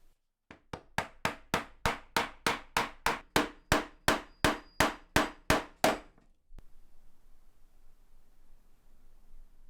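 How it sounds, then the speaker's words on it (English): About fifteen sharp hammer blows drive brass pieces into holes in oak, evenly spaced and loud, each a crisp metallic knock, followed by a single last tap after a short pause and then quiet. "get them hammered into place"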